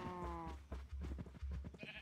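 Sheep in the video game Minecraft bleat in short, wavering cries, a couple of distinct calls in quick succession, fairly close and clear with no talking over them.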